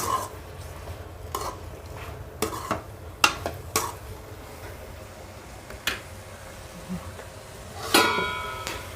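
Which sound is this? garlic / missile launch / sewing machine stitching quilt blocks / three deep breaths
garlic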